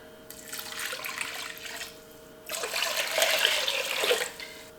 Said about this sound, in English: Then we're going to add in about 6 cups of water.